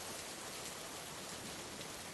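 Steady hiss of rain falling, an even wash of noise with no pauses, fairly quiet and continuous throughout.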